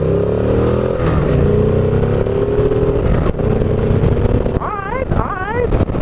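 A 2015 Victory Ness Magnum motorcycle accelerates, its loud engine droning and rising in pitch close by, with a clatter partway through and a sharp whining climb near the end.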